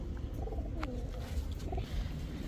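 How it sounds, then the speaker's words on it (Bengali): Jinjira pigeons at a seller's stall give low, soft cooing murmurs, faint and steady against a constant background hum, with no talking. "এই যে জিঞ্জিরার কবুতর, দেখেন সাইজ দেখেন"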